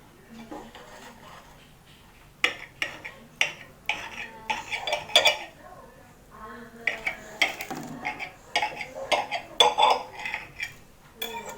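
Utensils scrape and clink against a plate while cutting an Indomie noodle pizza, making a series of close, sharp knocks and scrapes with short pauses in between.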